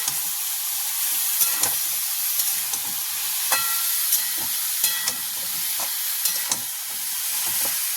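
Chola dal with cumin is sautéed over a high flame, giving a continuous bright sizzle with repeated spatula scrapes and taps at an uneven rhythm, close and fairly loud.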